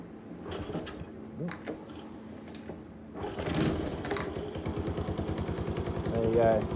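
A Honda CT110 postie motorcycle with a freshly fitted 1mm oversize piston kicks into life after some quiet handling noises, then settles into a steady, rapid single-cylinder putter with a loud exhaust, close by, with voices around.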